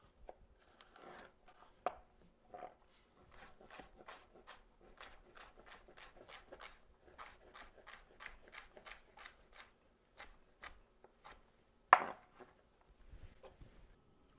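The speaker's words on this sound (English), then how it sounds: "I like to slice it down the middle like this." A knife slices celery on a cutting board in a quick, even series of crisp chops, faint and close, with a few louder knocks near the start and near the end.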